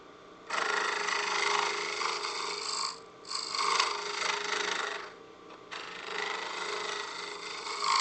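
A scraper rasps across a turned wooden acorn box on the lathe, giving a steady close scraping hiss in three long passes with short breaks between them.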